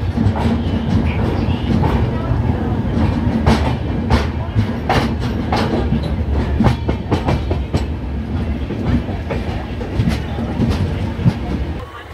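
Vivek Express passenger train running on the rails: steady loud rumble with repeated clickety-clack wheel beats throughout, heard from inside the carriage.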